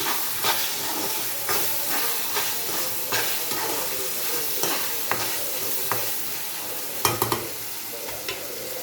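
Chicken pieces sizzle and fry loudly in a hot pan for a chicken gravy, with the scrape and clatter of steady stirring throughout and a constant hiss of steam beneath.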